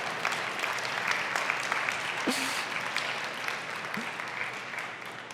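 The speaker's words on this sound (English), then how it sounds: "And you can clap." Audience applause fills the room after a conference talk on Shopify theme accessibility at Shopify Unite, a steady, dense wash of many hands clapping throughout.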